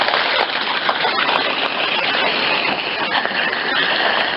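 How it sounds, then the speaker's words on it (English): Heavy rain pours down at sea during an ocean passage from Fiji to Opua aboard a boat, a dense, steady broadband hiss that fills the whole clip, loud and close with no let-up. "pissing down with rain"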